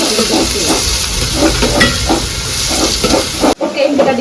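Onion and tomato sizzle in hot oil with a seasoning in a home kitchen during Deepavali cooking. A loud, steady frying hiss runs throughout with rhythmic stirring scrapes, then cuts off abruptly near the end.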